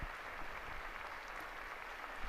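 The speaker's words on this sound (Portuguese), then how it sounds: "O aplauso" Thousands of faithful and pilgrims applaud at a Wednesday papal general audience with Pope Francis, a faint, distant, continuous wash of crowd clapping heard for a couple of seconds.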